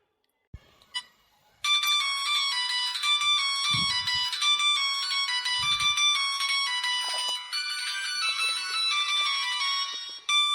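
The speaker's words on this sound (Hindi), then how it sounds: "तब देखिए क्या फोन बाज जाता है" A mobile phone ringtone chimes loudly in a quiet room with a repeating electronic melody that plays on for several seconds, with a few faint thumps early on.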